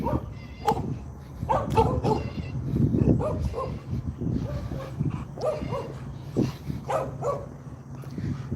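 Several dogs barking around a house, with irregular sharp yips and barks spread through the clip, some whimpering between them, moderately close with ambient noise underneath.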